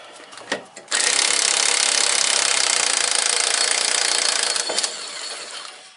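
A socket wrench, likely air-powered, loosening a rear differential bolt on a Ford Explorer 4.6, a loud sustained whir lasting several seconds up close, with short bursts just before and at the end.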